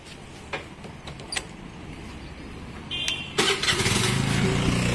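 A car engine cranks and catches after a few clicks and a faint beep, then settles into a louder running rumble close by, during a vehicle fault check.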